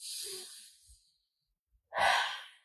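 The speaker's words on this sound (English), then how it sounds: "Take a huge breath in." A deep inhaled breath during a yoga session, with a long airy intake near the start, a quiet pause and then a louder breathy sigh of release, close and alone.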